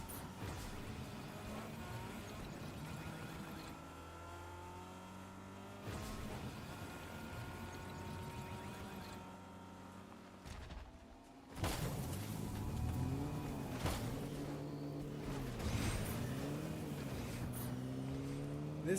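Car engine in Fortnite hums and revs at moderate distance, with the pitch rising and falling across gear changes. A louder, harsher stretch of revving arrives in the second half. There is no talking over it.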